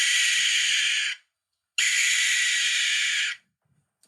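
Two long, harsh hissing screeches from a barn owl, each over a second, separated by a short silence; loud and close with no other sound.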